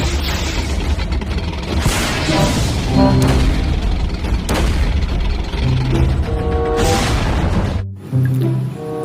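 A toy army tank plays a loud electronic firing effect, repeated booming blasts and crashes with tonal sounds between them, ending in a brief dropout before another burst.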